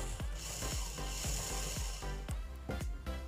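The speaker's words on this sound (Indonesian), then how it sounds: "Wah, servo murahan ternyata suaranya kayak gini" A cheap RC servo motor steering a miniature bus model whirs and ratchets in short buzzy bursts, several quick turns in a row, close-up and fairly quiet with no talking.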